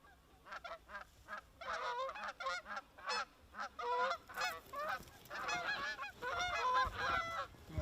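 A flock of geese honks during an early-season goose hunt in North Dakota, a dense, overlapping chorus of nasal calls in quick, irregular bursts, moderately close and getting busier toward the end.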